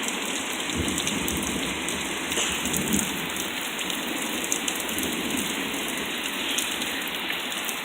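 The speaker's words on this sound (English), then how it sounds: "You guys can hear thunder." Steady hurricane-season thunderstorm rain pouring close by, with low rumbles of thunder rolling underneath, continuous and fairly loud, no voices.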